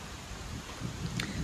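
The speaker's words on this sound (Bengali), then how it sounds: "ভালো মেঘ ডাকছে।" A low thunder rumble rolls beneath steady rain, heard from a tree-house resort veranda in Jaldapara, swelling slightly toward the end of the brief moment.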